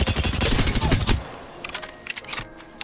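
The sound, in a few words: gunfire with recoil control in Apex Legends video game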